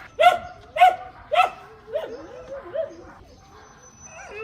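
Dogs rescued from the Yulin meat trade bark in three sharp, loud bursts, followed by softer yips and whimpering calls, close by with no talk over them.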